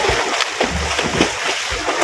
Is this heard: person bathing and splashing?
yes